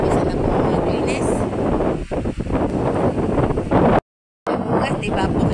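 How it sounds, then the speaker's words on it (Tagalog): Strong outdoor wind blasts straight into the microphone as a loud, dense roar with buffeting gusts. It dips briefly near the middle and cuts to silence for a moment before resuming. "kita nyo malakas ang hangin"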